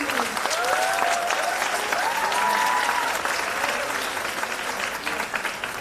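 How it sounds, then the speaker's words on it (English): An audience at a design week event at Karnavati University in Ahmedabad gives a big round of applause, a dense, steady clapping from the crowd that lasts the whole time and slowly thins, with faint voices underneath. "Can we have a huge round of applause for him?"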